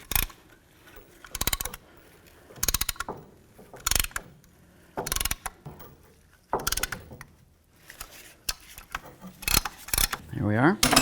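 Slow ratcheting clicks and short metallic bursts come in irregular bunches, close by, as a rear brake caliper piston on a 2015-20 GMC Yukon is pushed back in; no voices.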